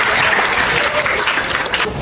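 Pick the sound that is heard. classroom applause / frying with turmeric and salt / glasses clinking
classroom applause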